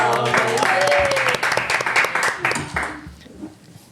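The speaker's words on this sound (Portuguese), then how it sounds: "Para o menino Bessa, uma salva de palmas." Birthday applause for Padre Bessa, a burst of clapping from a small group that fades out over a few seconds, with voices and cheering mixed in.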